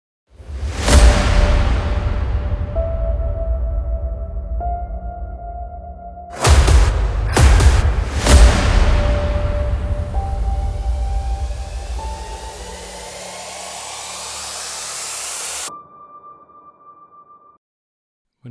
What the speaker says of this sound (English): Now it's time to light the grill.